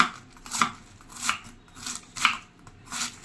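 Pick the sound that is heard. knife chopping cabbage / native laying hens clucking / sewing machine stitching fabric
knife chopping cabbage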